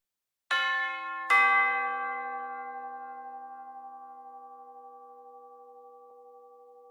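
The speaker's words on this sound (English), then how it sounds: "muted hits, where the instrument's dampening pedal is activated after 4 bars, muting the bells in a realistic and musical fashion" Sampled orchestral bells from the Nucleus library with a dampening pedal are struck twice in quick succession, bright metallic tones that ring out and decay slowly in isolation.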